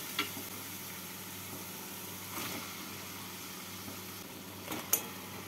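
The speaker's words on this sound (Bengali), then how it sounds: "এবার এর মধ্যে আমি দিয়ে দেবো ভেজে রাখা আলু আর ভেজে রাখা মাছের" Fried potatoes and fish heads are tipped into a pan of cooked-down spice masala for muro alur ghonto, giving a faint, steady sizzle with a few soft clatters and one sharper knock near the end.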